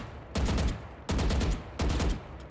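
Vandal rifle fire in Valorant, three loud close bursts of several rapid shots each, separated by short pauses, with no talking.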